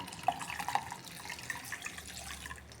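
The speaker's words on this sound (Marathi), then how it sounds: "वरून थोडंसं मी गार पाणी ॲड करणार आहे" Cold water is poured over drained cauliflower and peas for a flower-matar bhaji, with soft splashing and dripping trickles and a few brighter plinks, fairly close and unaccompanied by speech.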